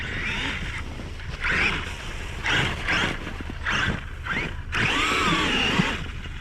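A Traxxas Maxx RC truck on paddle tires runs through snow, its electric motor whining in repeated bursts as it accelerates and pulls wheelies, fairly close.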